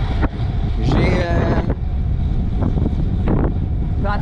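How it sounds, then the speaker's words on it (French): Strong headwind roaring into the microphone while cycling along the Saint Lawrence, a loud steady buffeting rush that fills the whole clip with a few bursts of voice over it. "C'est ça qui est pas pire vu qu'on a un vent de face."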